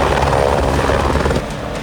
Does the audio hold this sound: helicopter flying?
yes